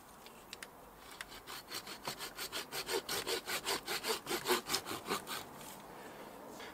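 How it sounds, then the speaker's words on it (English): Hand saw cutting privet stump branches for bonsai: after a few light taps, a quick run of about a dozen rhythmic back-and-forth strokes swells, then stops, heard close and alone. "I won't show you all my sawing"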